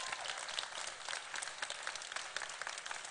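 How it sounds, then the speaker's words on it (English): A crowd applauds steadily as judge Crona Byrne comes on stage at a live-streamed judging event in Donegal. The dense clapping stays continuous and moderately loud throughout, with no talking over it. "Give her a great big round of applause."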